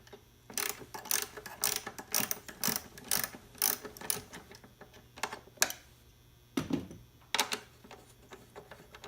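Hand ratchet clicking in repeated bursts as two 10mm nuts come off the battery hold-down bracket of a 2011 Mazda3 2.5L, close and crisp with pauses between strokes.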